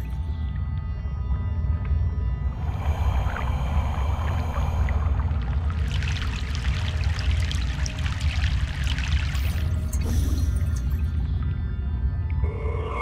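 A boat makes its way across a river in Broken Sword 3's Egypt setting, with continuous low churning water, a building wash of splashing and spray through the middle, and a brief sharper splash near the end.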